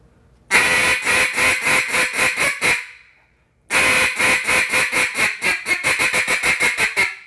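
A hand-blown duck call sounds close and loud, with about nine quacks, a short pause, then a longer run that speeds from slow quacks into fast, clipped chatter. No voices are heard.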